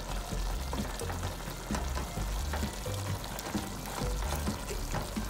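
Chicken pieces browning in a hot pot for arroz con pollo sizzle and crackle steadily up close, with repeated scraping and clacking as the meat is stirred, no voices present.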